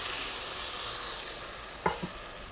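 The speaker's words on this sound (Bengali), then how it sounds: "এবার একটু জল দিয়ে দিব" Water splashed into a hot pan of fried dried-fish chorchori with colocasia stems, giving a loud broad hiss that slowly fades, then a couple of soft knocks from a utensil, close up.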